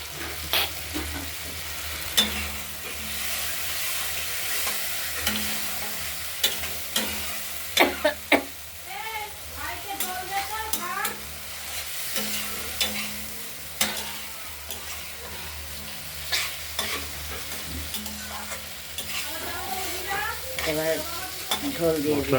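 Spice masala paste frying in oil for a Bengali fish curry, stirred steadily: a constant low sizzle and bubbling with repeated scraping spatula strokes and clanks against the pan, close by and fairly even in loudness.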